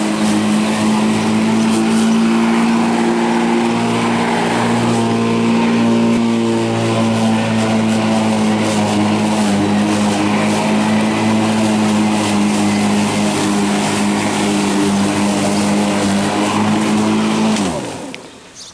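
A Black & Decker cordless battery-powered electric lawn mower runs with a loud, steady motor whine and strong tonal hum, holding constant for most of the span before cutting off abruptly near the end.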